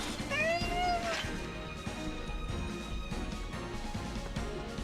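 A cat meows twice near the start in Final Fantasy VII Rebirth, the calls rising over dense game music and effects that continue throughout.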